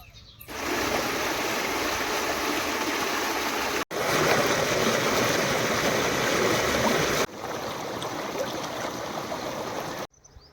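Steady rushing irrigation water pours and gurgles continuously into a cotton field at close range, with a couple of abrupt cuts in level and no voices.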